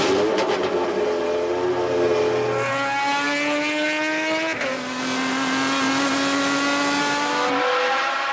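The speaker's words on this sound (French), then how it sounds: "avec le son inimitable d'un moteur V6 de 400 chevaux" An Alpine A110's 400-horsepower V6 engine screams close by, revving up through rising tones and shifting gears, loud and continuous.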